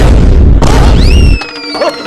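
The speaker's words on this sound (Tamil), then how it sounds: "டப்புன்னு வெடிக்கிற மாதிரிலாம் வரும்" A loud, sustained gunshot-like bang effect booms during a magic show, followed by rising electronic whistling tones as it fades.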